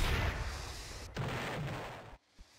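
Gunfire in the Roblox game Destroy the Neighborhood rolls out as one continuous stream of game shots and blast noise, loud and steady, then cuts off abruptly and a single faint thump follows.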